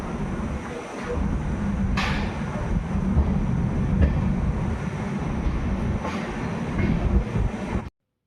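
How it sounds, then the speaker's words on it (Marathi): A passenger train leaving Karmali railway station in Goa gives a steady, loud rumble with a few sharp clanks. The sound cuts off abruptly at the end. "फायनली आमगेली ट्रेन करमली रेल्वे स्टेशनाचेर सुटोली"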